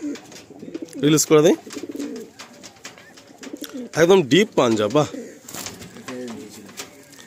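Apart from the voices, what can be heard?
pigeons cooing at a pigeon loft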